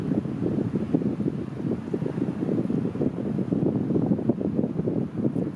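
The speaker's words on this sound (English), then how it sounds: "chilly wind coming off the bay" Chilly wind blowing in off a bay on a hike in Canada, a steady low rumbling buffet across the microphone with gusty fluctuations throughout, no voices.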